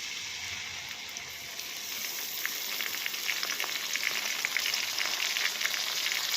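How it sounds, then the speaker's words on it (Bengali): Sliced onions sizzle in hot oil in a pan, a steady soft frying hiss with faint crackles that swells slightly after the first seconds; no one speaks. "দেখো বন্ধুরা পেঁয়াজ দেওয়া হয়ে গেল তেলে"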